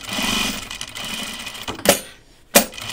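A sewing machine runs a steady quarter-inch seam joining fabric for 1 3/8 inch bias binding, a continuous close mechanical whir that stops near the end, followed by two sharp clicks.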